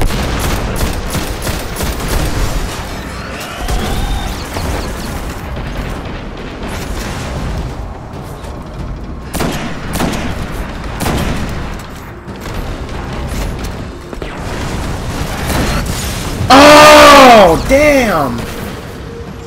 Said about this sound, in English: Oh, he's about to shoot at me